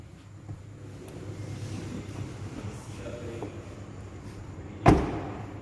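The door of a 2021 Nissan Navara Pro-4x shuts with one solid, heavy thud near the end, following a stretch of quiet background hum.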